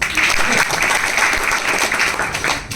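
An audience at a business meeting breaks into steady applause, many hands clapping in a dense, moderately loud burst that carries on throughout.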